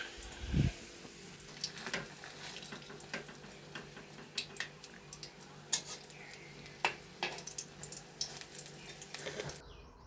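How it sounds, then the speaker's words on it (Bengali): Bora fritters frying in a pan in a small kitchen give a soft, steady sizzle with scattered light clicks and scrapes, fairly quiet and without talk. "বড়া ভাজছি"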